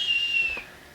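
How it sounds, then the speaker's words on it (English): A single short, shrill whistle blast in a family home, one clear high tone sliding slightly downward before cutting off, close and fairly loud. "Get my lovely whistle."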